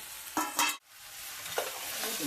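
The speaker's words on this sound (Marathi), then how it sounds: "मित्रांनो मटण टाकलाय तर मला ह्याला फिरवावं लागेल" Mutton frying in a pot over a village wood-fired stove, stirred with a couple of quick scraping strokes followed by a steady close sizzle that briefly drops out, then resumes with another stir.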